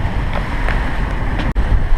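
Big waves and wind buffeting a sailing boat at sea in the Caribbean, a loud, continuous rushing wash with gusty wind noise on the microphone and a sharp knock near the end.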